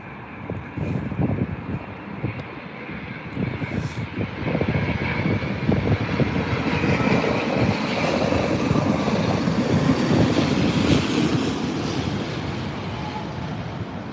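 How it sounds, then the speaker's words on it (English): A British Airways Boeing 787-10 airliner at London Heathrow gives a broad jet roar that swells and holds, then eases slightly, with a breezy outdoor rush underneath and no talk. "It's your BA 787-10."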